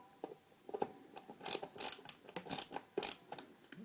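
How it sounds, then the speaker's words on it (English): A ratchet screwdriver clicks in quick uneven bursts while tightening the neck screws on a bolt-on guitar, the close ticking rising and falling in short runs. "I'm going to use the ratchet to help me tighten up the screws"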